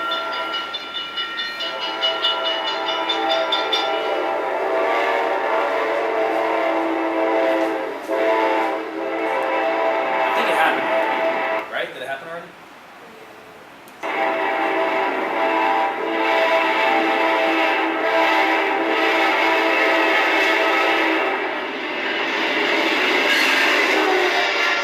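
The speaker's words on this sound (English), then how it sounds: "Yeah, that sounds like a train. Now I hear a horn and a bell." A passing train sounds its horn in long, loud blasts over the steady rumble of the cars, and the horn's pitch drops as it goes by, with a brief lull partway through.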